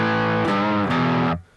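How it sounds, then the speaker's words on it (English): An electric guitar played through a distortion pedal rings out in a loud, sustained, buzzy chord that shifts pitch twice before being abruptly choked off, with no voice. "The use of a distortion pedal allows a lot more tonal possibilities, and it also allows us to easily switch from a clean tone to a dirty rhythm tone."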